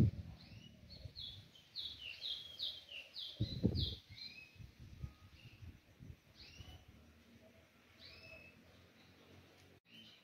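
A caged rufous-collared sparrow sings softly, repeating short high chirping phrases close by, broken by a low thump and some handling rustle partway through.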